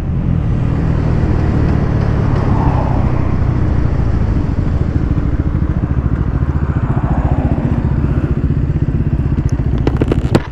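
Bajaj Pulsar F250 motorcycle racing on an expressway, a loud continuous engine drone with wind rush heard from on board, steady throughout with a few clattering knocks near the end.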